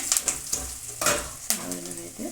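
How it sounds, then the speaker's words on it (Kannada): Two or three dried red chillies frying in oil with fenugreek seeds, a close crackling sizzle punctuated by several sharp scrapes and knocks of a spoon against the pan. "ಸ್ವಲ್ಪ ಒಣಮೆಣಸಿನ್ಕಾಯಿ ಒಂದೆರಡರಿಂದ ಮೂರು ಹಾಕೊಂಡ್ಬಿಟ್ಟು ಸ್ವಲ್ಪ ಫ್ರೈ ಮಾಡೋಣ"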